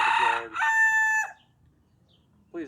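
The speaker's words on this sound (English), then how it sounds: "Please ignore the chickens, they're a nuisance." A rooster crows loudly and close by, a long drawn-out call, followed by a pause and the start of another cluck or crow from the chickens.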